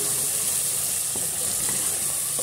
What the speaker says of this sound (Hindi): मसालों को चलाते हुए बहुत अच्छे से भून लें।